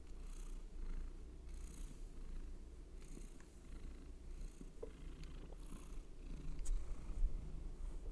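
Close, continuous purring from a pet cat, a low rumbling texture pulsing in regular breaths with a few faint clicks and rustles near the end, no voices.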